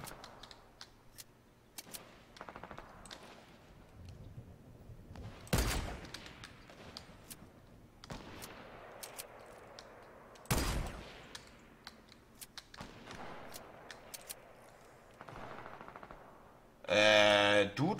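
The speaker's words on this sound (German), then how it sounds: "hier wird überall geschossen" Gunfire in the video game Fortnite: rapid bursts and single shots crackle throughout, with several loud, sharp blasts standing out against a steady busy background of in-game sound.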